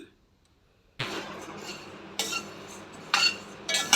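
Cloves, cardamom and cinnamon are stirred in a pan: after a second of near silence, a metal utensil scrapes and clinks against the pan in irregular bursts over a low frying hiss.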